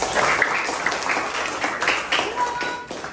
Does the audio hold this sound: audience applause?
yes